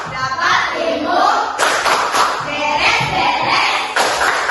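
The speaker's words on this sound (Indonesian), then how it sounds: "Kita tepuk pulang sekolah." A classroom of schoolchildren performs a patterned clapping routine for going home from school, with several bursts of many hands clapping together in a rhythmic sequence, loud and close, mixed with shuffling and taps.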